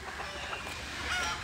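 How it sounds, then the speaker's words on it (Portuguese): Bantam chickens clucking in a pen at Parque da Água Branca in São Paulo, a steady, close, moderately loud flock chatter with no talking. "Tem muita galinha garnizé"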